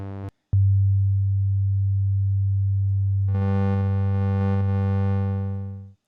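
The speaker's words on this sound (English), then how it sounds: "You can hear that there's quite a variety of sound just from a single oscillator" A single oscillator of the Audio Damage Continua synthesizer plays a sustained, steady low tone. After a brief dropout it resumes, then brightens partway through into a buzzier, richer timbre before fading out at the end.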